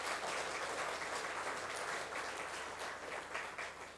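A church congregation at a Sunday morning service in Chile applauds, a dense, steady, fairly faint wash of clapping that carries on throughout, softening slightly at the end.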